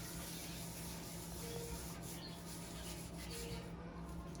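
Hands rub seasoning into raw beef short ribs before slow cooking on a hooded gas barbecue, making a soft, continuous close-up rasping and scrubbing with no talk.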